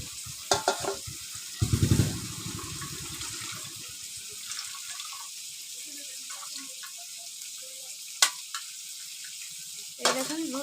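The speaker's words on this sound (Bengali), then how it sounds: "চিংড়ি মাছগুলো ভাজা হয়ে গেছে" Prawns frying in a pan give a soft, constant sizzle broken by occasional louder clatters and scrapes of stirring, with a brief burst of bubbling early on.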